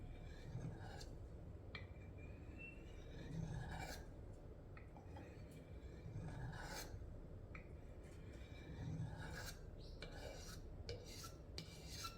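A hook knife is honed on a whetstone in steady, repeated rasping strokes that rub back and forth close up, with no talking over the grinding.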